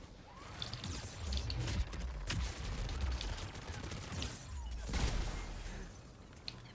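Rapid turret gunfire in the video game Mass Effect 3, a dense stream of shots and impacts with periodic heavier bursts, fairly quiet and continuous throughout.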